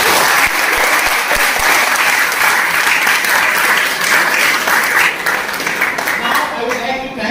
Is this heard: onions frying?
no